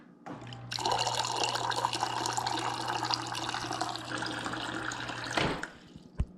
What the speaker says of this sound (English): turn and then press the hot water knob